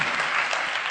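Brief burst of audience clapping at a Hindi comedy poetry gathering held for the Maharaja Agrasen Jayanti festival, a dense, even patter of many hands heard alone for under a second.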